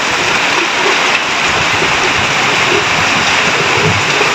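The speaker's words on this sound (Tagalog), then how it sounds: "Lakas ng ulan." Heavy rain pours down in a dense, constant roar during a typhoon, loud and close, with no talking over it.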